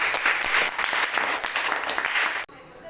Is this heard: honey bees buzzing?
no